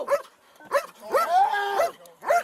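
A dog barks in sharp, repeated bursts during a police traffic stop, four or five loud nearby barks with one longer drawn-out yelp in the middle.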